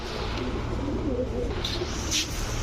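Highflyer Giribaz and racer pigeons cooing in low, murmuring tones, several birds overlapping against a steady background rumble.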